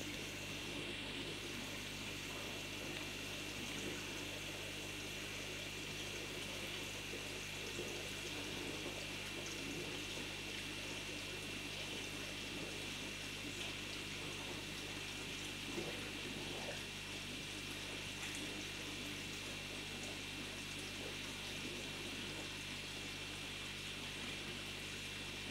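Compressor air bubbles steadily through water in a barrel biofilter for a pond with crucian carp, a continuous close gurgling and hissing wash with no pauses and no voices.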